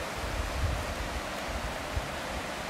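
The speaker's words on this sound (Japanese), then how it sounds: "いい滝だが。" Nakayama Falls in Akitakata, Hiroshima pours with a steady, broad rush of falling water that stays even and continuous, with no voices over it.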